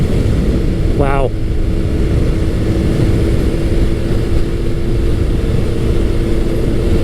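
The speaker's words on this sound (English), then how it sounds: "this bike just continues to accelerate pretty much regardless of the speed that you're going" Suzuki Hayabusa Gen 1 sport motorcycle under steady hard acceleration, a loud continuous engine drone with a sustained tone throughout, recorded amid strong wind rush.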